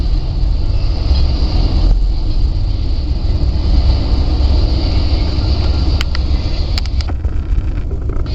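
California Zephyr passenger train riding through Donner Pass, a loud steady rumble and roar of the cars on the rails with a few brief metallic clicks near the end.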